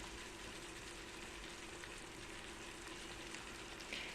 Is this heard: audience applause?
no